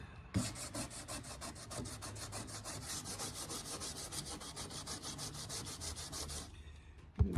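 Body filler on the rotted cowl of a Chrysler Cordoba is sanded by hand with a block, making a brisk, even back-and-forth rasping rhythm of close strokes that stops abruptly near the end.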